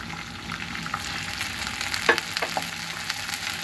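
Water poured into a pan of onions frying for a Bangladeshi tomato and fish curry, giving a steady close sizzle with a sharp hiss burst partway through and some stirring clatter, no talking.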